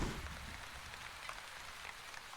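Steady rain patters softly on surfaces in the Wandering Village video game, a quiet even hiss that runs without a break, with no talk.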